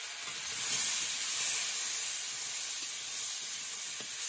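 Banana, brinjal and chilli hit a hot wok for a Bengali vegetable dish, giving a steady, close hiss of frying that holds evenly throughout with no voices.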